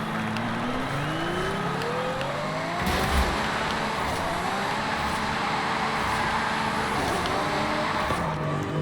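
A 2017 Ferrari GTC4Lusso in Forza Horizon 5 roars steadily under load, its engine note climbing through the gears with tire spin, loud and continuous throughout.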